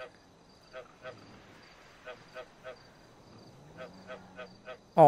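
Frog croaking in the game GTA: soft, evenly spaced croaks come in short rhythmic runs over a quiet background, and a voice cuts in abruptly at the very end.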